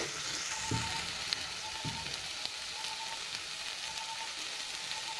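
Food sautéing in oil in a pan gives a steady, close hiss of frying, broken by a couple of dull knocks and faint utensil taps.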